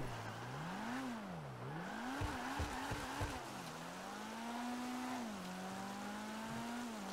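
A fast drift car in GTA Online slides through a turn, with a long wavering engine drone climbing and falling and bursts of tire squeal partway through, loud and close throughout.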